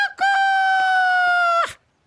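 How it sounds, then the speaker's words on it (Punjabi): One rooster crows in a single loud, sustained, steady call lasting just over a second and ending with a sharp break. No other sounds accompany it. "ਕੁਕੜੂ ਕੁੜੂ ਨੀ ਨੀਰੂ ਕੁਕੜੂ ਕੁੜੂ"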